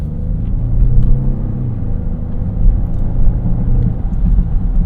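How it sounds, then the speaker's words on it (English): A 2025 Genesis GV80 engine pulls through traffic with a throaty, low rumble that swells slightly as the SUV accelerates, heard steadily from inside the cabin. "Throaty sounding engine."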